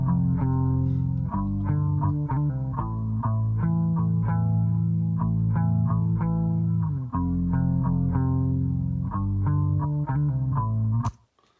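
A clean bass guitar playing a melodic line of plucked notes, shimmering with a wide, wavering chorus effect, then stopping abruptly near the end.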